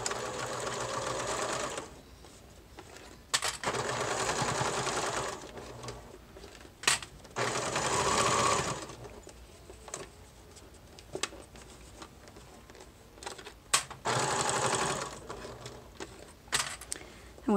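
A home sewing machine stitches a fabric gusset onto a bag, running in several steady bursts of close, loud whirring separated by short pauses and small handling clicks.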